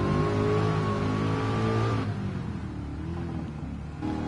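A car engine in the video game GT Sport revs steadily with a rising whine for about two seconds, then drops to a lower idling hum.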